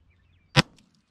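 A single sharp shotgun blast fired with snake shot on the prairie, one loud close crack that decays quickly into faint echoes.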